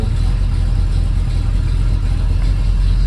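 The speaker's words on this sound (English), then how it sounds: "So, we've been idling for about 5 minutes now." The engine of a 1978 Ford Bronco barn find idles loud and close in an even, rumbling drone without speech.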